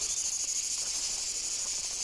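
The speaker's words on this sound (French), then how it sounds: "Je me lasserai jamais de ces chants de cigales." Dense, unbroken cicada chorus in hot summer sun, a loud steady shrill buzz from many insects filling the air without pause, no voices.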